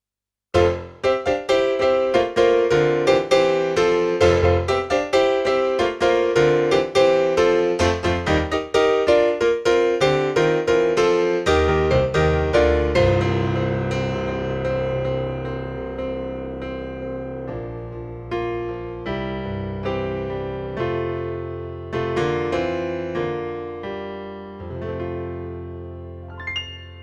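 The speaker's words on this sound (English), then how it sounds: "the Hamburg Grande, which of course is the sound of the Steinway piano" A Casio AP710 digital piano on its Hamburg Grande Steinway voice plays a bright, powerful passage. It opens with dense rapid notes, then slows to ringing chords and decaying sustained tones, close and clear with no talking.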